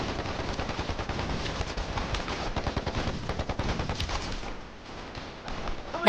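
Dense, loud gunfire from a battle scene in a Chinese anti-Japanese war action film, with rapid machine-gun bursts and overlapping rifle shots forming a continuous fusillade that eases briefly near the end.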